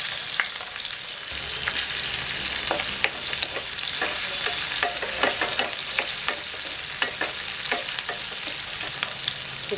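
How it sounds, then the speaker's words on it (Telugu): Mustard seeds, cumin, onions and green chillies fry in hot oil for a okra and prawn curry, a dense continuous sizzle peppered with crackling pops and spoon scrapes, close and loud with no talking. "ఆవాలు జీలకర్ర బాగా వేగాలి ఉల్లిపాయలు పచ్చిమిరపకాయలు వేసుకుందాము"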